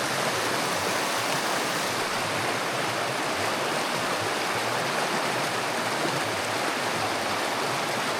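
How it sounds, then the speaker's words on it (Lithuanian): A river flowing out of a lake along the Kungsleden trail rushes steadily, a dense, continuous wash of flowing water with no pauses and no voices. "Tai čia ta upė, kur iš Šano ežero."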